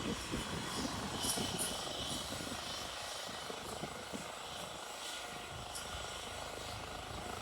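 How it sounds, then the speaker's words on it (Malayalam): A helicopter that has landed nearby sits with its engine running, giving a steady, moderately distant whine and rotor hum with faint rhythmic chop throughout, no talk. "ഓൾറെഡി ഹെലികോപ്റ്റർ അവിടെ ലാൻഡ് ചെയ്തിട്ടുണ്ട്"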